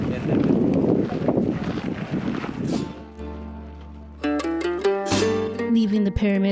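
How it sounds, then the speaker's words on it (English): Strong wind at the Teotihuacan pyramids buffets the microphone in loud rushing gusts for the first few seconds, then gives way to other sounds. "Really windy right now."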